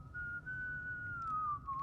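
A character in the video game Death Stranding 2 whistles a tune, a single clear sustained whistled line drifting gently in pitch over a low background hum, with no talking.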